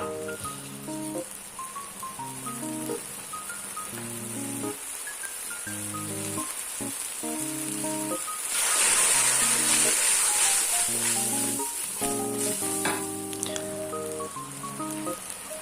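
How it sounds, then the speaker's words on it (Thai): Vegetarian pad thai noodles are stir-fried in a pan with a steady sizzling hiss and scraping, rising louder midway. Background music plays throughout. "หลังจากนี้ก็ผัดให้เส้นนุ่มเลยนะครับ"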